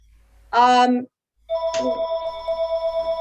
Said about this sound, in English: Whoever's phone is ringing, I don't know.